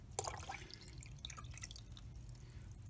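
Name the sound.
water dripping and pouring from a cup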